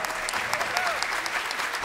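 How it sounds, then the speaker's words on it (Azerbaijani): At an international opera festival, the audience gives the soloists a thick, lively round of clapping that stays at a steady level for the short stretch heard. "Bir daha gəlin solistləri alqışlayaq."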